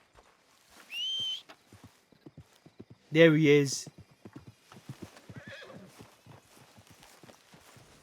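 A horse in Red Dead Redemption II gives one clear whinny near the start, then a louder, longer neigh around the midpoint, with steady clip-clop hoofbeats throughout and someone talking over the later part.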